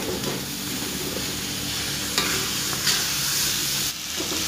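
Potatoes for sambal goreng hati sapi fry steadily in spiced paste in a pan, with a continuous sizzle broken by a few scraping stirs, close and fairly loud, with no talking.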